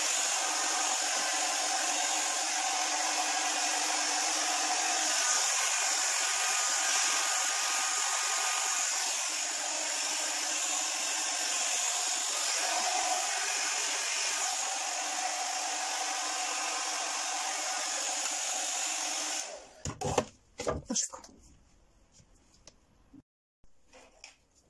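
A hair dryer blows steadily with a constant whooshing whine for about twenty seconds, then cuts off, leaving brief clatter and quiet handling noises.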